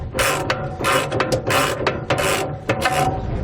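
A ratchet wrench cranks bolts loose from Kwikee 25 Series electric RV steps on a 2008 Fleetwood, sounding as loud, close bursts of rapid clicking with brief pauses between strokes and no voices.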